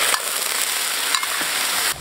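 Seasonings and Sichuan peppercorns sizzle and fry in a wok of hot lard-and-oil mixture, a steady loud hiss with small crackles and stirring scrapes that drops off sharply at the end.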